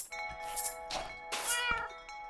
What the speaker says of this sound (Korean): 너는 검은색 고양이구나